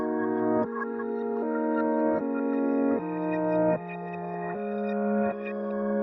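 A reversed piano layered with the same melody reversed and pitched up an octave, forming swelling chords that rise and cut off in a slow, even ambient progression, played alone without voices.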